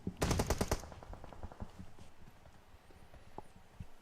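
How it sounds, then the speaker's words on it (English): Gunfire in an online multiplayer shooter match, a rapid burst of loud automatic shots at the start, then scattered quieter shots and a distant bang fading into the background. "He's getting bombarded with grenades now."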